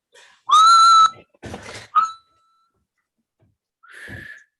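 A person whistles in imitation of a steam train: a loud, steady tonal whistle blast, then a breathy puff and a short chirp, with a softer, thinner whistle after a pause.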